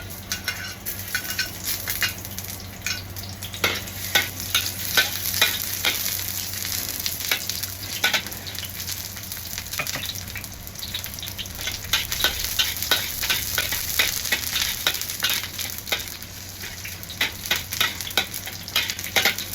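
Shallots fry in oil in a pan, giving a steady faint sizzle broken by frequent sharp scrapes and clinks of a spatula stirring against the metal, with no voices.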